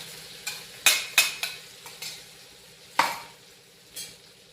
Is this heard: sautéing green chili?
yes